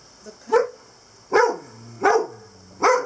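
A livestock guardian dog barks sharply at a passer-by, four loud close barks spaced about a second apart, the first preceded by a soft yip.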